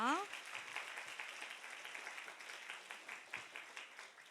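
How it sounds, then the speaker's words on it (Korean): A church youth congregation applauds in welcome at a Sunday worship service, steady indoor clapping at moderate distance with a brief voice at the start. "들어갈 때까지 박수로 환영해 주세요."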